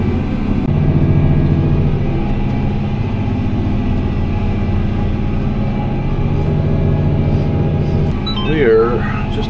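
A Fendt tractor pulling a corn planter runs at full throttle with a steady, loud low engine drone inside the cab, and someone talks over it throughout.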